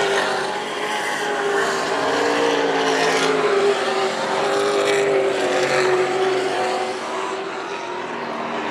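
Race cars circle the oval at Hythe Motor Speedway during a WESCAR 100 race, a steady loud roar of engines droning throughout with some passing cars rising and fading, no talking.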